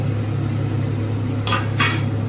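A lid comes off a pot of vegetables cooking in water, giving two quick metallic clanks close by over a steady low kitchen hum.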